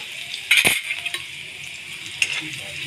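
Garlic sizzles in a pan alongside cumin for a cashew paneer dry curry, a steady hiss broken by a few clinks and scrapes of a spoon against the pan, close and moderate in loudness.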